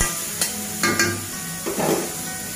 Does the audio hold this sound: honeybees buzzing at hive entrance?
no